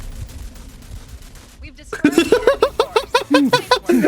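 Gunfire crackles in rapid bursts during a Rogue Company match, then gives way to players talking and laughing loudly close by.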